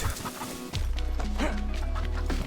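A chicken in the video game DayZ lets out a few quick clucks amid thumping hits and a low electronic hum, with no one speaking.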